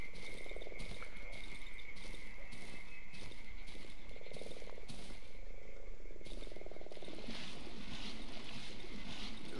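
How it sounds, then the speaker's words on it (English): A dense chorus of frogs croaks in repeated pulsing bursts in the Darkwood game forest, mixed with a constant shrill cricket drone and faint watery ambience, carrying on steadily without any talking. "Frogs croaking everywhere."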